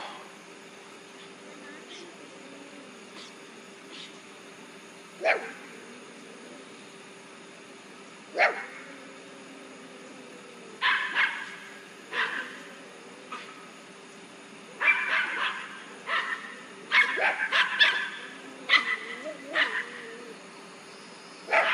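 Several dogs bark in scattered bursts and clusters, some near and loud, others shorter yips and whimpers, with a person speaking at times in an outdoor yard where red-shouldered hawks perch in trees in Kingsland, Georgia.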